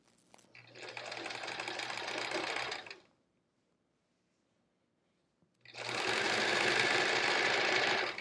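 A sewing machine stitches quilt pieces for a Triangle Tango quilt in two loud, steady whirring runs, separated by a few seconds of near silence.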